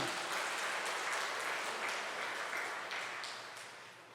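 Sustained applause from a large church congregation, dense and even, slowly tapering off toward the end.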